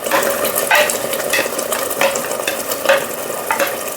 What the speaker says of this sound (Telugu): పచ్చి కొబ్బరి పేస్ట్ వేసాను. ఇది కూడా ఫ్రై అవనివ్వాలి కొంచెం 2 మినిట్స్.